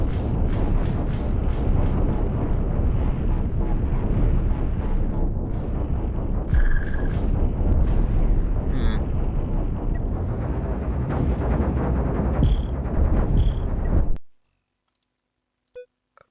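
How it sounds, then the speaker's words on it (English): Ion weapon fire striking starships in the space combat game Cosmoteer, a dense continuous barrage of crackling impacts and clicking bursts at steady loudness for about fourteen seconds, then cutting off abruptly to near silence with a few faint ticks. "Now here comes some ion shots in response."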